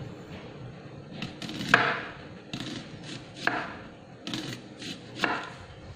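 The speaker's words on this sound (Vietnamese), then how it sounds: "Hành tây thì mình sẽ xắt thành khoanh nha các bạn." A knife slices an onion into thin rings on a board. A few crisp chops land close up about a second apart, with quiet pauses between them.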